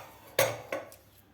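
A metal pressure cooker lid lifted off after cooling, used for cooking drumstick and potato curry, giving two sharp metallic clanks followed by a faint lighter clink, close and clear with no talking.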